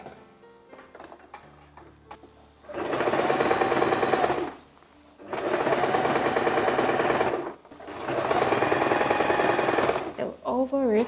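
A sewing machine stitches a garment sleeve fitted over its free arm, running in three loud, steady bursts of rapid mechanical whirring separated by short pauses, with brief handling sounds between runs.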